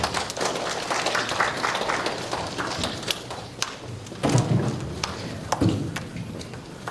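An audience at a monthly fire-safety education event in Korea claps to welcome a professor to the stage, a scattered, moderately loud burst of applause with a few heavier thumps.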